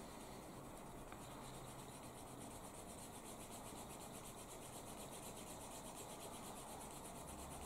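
A burnishing tool rubs the edge of a piece of leather, making a constant, faint, dry friction hiss with an even back-and-forth texture and no speech.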